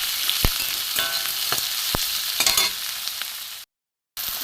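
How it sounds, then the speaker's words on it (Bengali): Onion, tomato and grated garlic fry in a pan for a fish-and-potato chorchori, a steady close sizzle with a few sharp stirring clicks, then a brief cut to silence before the sizzle returns. "পেঁয়াজ টমেটো ভাজা হচ্ছে"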